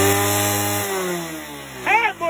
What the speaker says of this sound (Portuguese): É, motosserra,